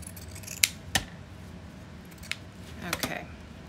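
Scissors snipping through fabric folded in half, a few crisp separate cuts close by with quiet pauses between them, no talk.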